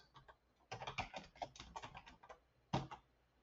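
Typing a folder name on a computer keyboard, a close, quiet burst of quick irregular keystrokes, then a short pause and one last firmer key press, with no talking.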